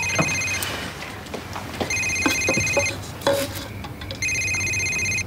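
A mobile phone rings in a restaurant, repeated bursts of an electronic trilling ringtone separated by short pauses, over clinking dishes and kitchen clatter.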